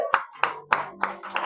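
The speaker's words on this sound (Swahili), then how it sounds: "Pigia Yesu makofi." A church congregation clapping in praise, five slow, evenly spaced claps ringing in a reverberant room, fairly quiet with a low hum beneath.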